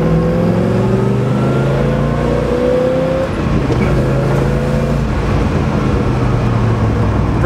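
A 1970 Chevrolet Chevelle SS 396 V8 accelerates hard beneath a bridge, its loud engine note climbing through rising harmonics, dipping at a shift midway, then pulling up again steadily and close throughout, with no talking.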